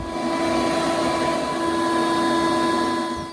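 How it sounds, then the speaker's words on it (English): A vacuum cleaner running steadily inside a snowy 1973 Triumph Spitfire 1500, a loud constant whine and hum that fades slightly at the end. "we're gonna vacuum it out right now before it melts"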